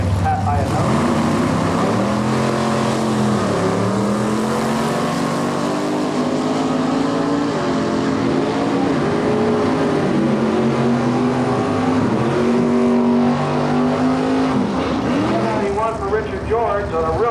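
Drag racing cars at the Delmar US13 Dragway during a 1997 NHRA Winston divisional race, loud engines roaring and rising in pitch with gear changes, under an announcer's voice.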